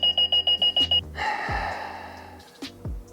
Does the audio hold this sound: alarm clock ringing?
yes